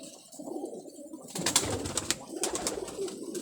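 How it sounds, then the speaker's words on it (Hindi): Pigeons at a pigeon club: low, throaty cooing in soft bursts, close and fairly loud, over a light background murmur. "ये भी बांदा आँख का कबूतर बैठा हुआ है।"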